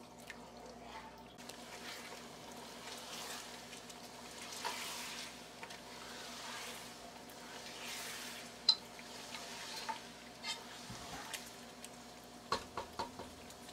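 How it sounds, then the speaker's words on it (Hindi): Low, steady sizzling of chicken frying with ginger and garlic in a pan, with occasional soft stirring clicks, no voices. "अच्छी तरह से अदरक लहसुन के साथ चिकन को फ्राई करेंगे।"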